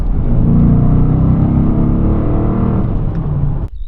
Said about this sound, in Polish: radość z jazdy to nie tylko prowadzenie, ale również i ten piękny ryk silnika.